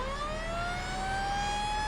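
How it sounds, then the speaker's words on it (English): A siren wails steadily with a slowly rising pitch, loud and continuous, with a low engine rumble underneath. "Saying sirens are not loud enough."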